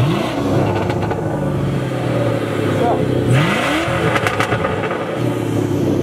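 A 1990 Mazda Miata and a 1996 V8 Mustang rev and accelerate in a drag race, loud engine notes rising and sweeping in pitch, with voices talking over the engines.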